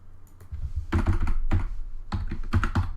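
Keys on a computer keyboard clatter up close in quick bursts of typing, separated by short pauses, with no talking.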